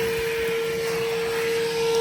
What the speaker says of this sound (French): c'est cet aspirateur portable de chez Evolution qui est sur batterie 18 volts